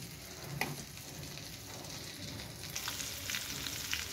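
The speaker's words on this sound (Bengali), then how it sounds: "এখন পেঁয়াজ, রসুনগুলো সুন্দর করে ভেজে নিচ্ছি ওই তেলেই।" Onions and garlic fry in the same oil just used for prawns, a soft, steady sizzle with faint stirring scrapes and a few brighter crackles, heard close and quiet.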